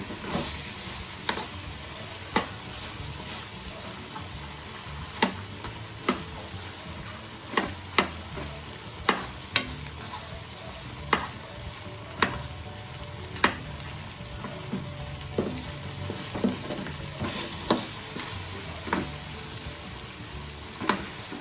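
A spoon scrapes sticky pork rib adobo sauce from a frying pan to the sounds of steady sizzling oil and repeated sharp metallic scrapes and taps, close, with no talking.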